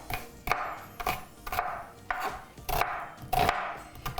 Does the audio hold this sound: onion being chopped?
yes